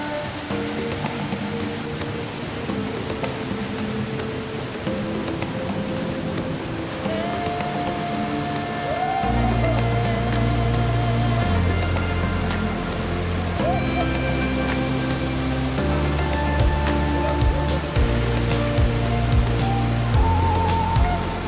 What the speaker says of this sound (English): Just around the bend, we started to hear the waterfall